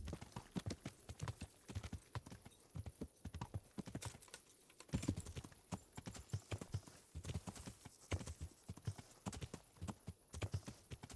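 Horse hooves clip-clopping in the medieval role-playing video game Kingdom Come: Deliverance, steady close rhythmic clopping throughout, fairly quiet with faint background noise.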